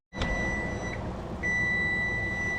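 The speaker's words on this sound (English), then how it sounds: "Turn off the timer." Kitchen timer beeping steadily while eggs boil, a continuous high electronic tone with a short break, fairly faint over a broad background hiss.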